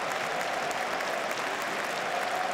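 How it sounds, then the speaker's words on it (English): Stadium crowd applauding during a Sunderland AFC versus Stoke City football match as a player is substituted, a steady distant wash of clapping and crowd noise throughout. "Getting a good round of applause"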